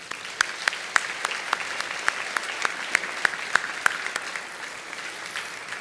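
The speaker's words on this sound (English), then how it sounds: "Let's give them a round of applause." Dinner audience at an annual banquet applauding the honorees, a sustained even round of clapping with a few sharper individual claps standing out in a loose rhythm.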